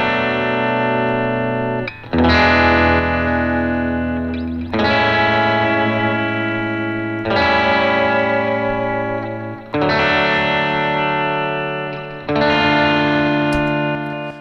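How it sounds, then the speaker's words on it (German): Electric guitar in Logic Pro X run through a stereo delay at default settings, with quarter-note repeats on one side and eighth-note repeats on the other; distorted sustained chords strike roughly every two and a half seconds, ringing and echoing, alone. "Hören wir uns das Delay einfach mal in der Standardeinstellung an. Ich bin hier bei dieser Elektrik-Gitarre und schalte es zu."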